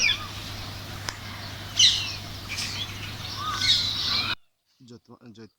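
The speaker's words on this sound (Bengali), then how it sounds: "আর এই যে টিয়া পাখি ডাকছে" Parrots calling outdoors among trees in a rural garden, with several sharp, scratchy squawks over a low hum. A person then starts talking near the end.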